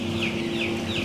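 Broiler chickens in a broiler house cluck and call softly over a steady mechanical hum, a few repeated rising bird notes standing out against the constant drone.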